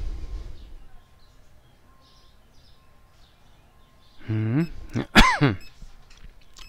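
Supermarket checkout game ambience with faint beeps, then a person coughs several times close to the mic, harsh and throaty, ending in a loud hacking burst, with no talk.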